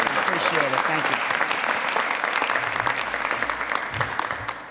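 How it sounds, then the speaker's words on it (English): An audience at a mayoral announcement on education applauds for a birthday, with dense steady clapping close and loud throughout, fading a little at the end, and a voice speaking over it. "Give him a big round of applause."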